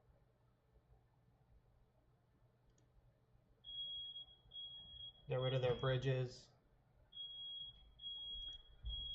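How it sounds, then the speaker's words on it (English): A room fire alarm emits a thin, high, steady beep that sounds in repeated bursts, then cuts out and resumes. A person speaks over it in the middle. "The fire alarm's going off behind me."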